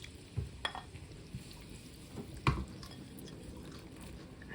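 Rohu fish roe frying in oil in a pan, a steady soft sizzle broken by a few sharp scraping stirs of a spatula, close and moderately quiet with no talk.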